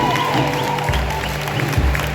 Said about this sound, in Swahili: Jamani, makofi kwa Mungu.